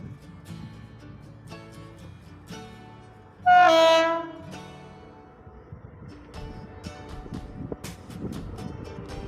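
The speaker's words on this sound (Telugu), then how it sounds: "ఇదే రైల్వే బ్రిడ్జి మీద ఇప్పుడు ఒక ట్రైన్ వస్తుంది చూడండి" A passing train gives one loud horn blast over the low rumble and clatter of its wagons rolling across the long arch-type rail-cum-road bridge at Rajahmundry.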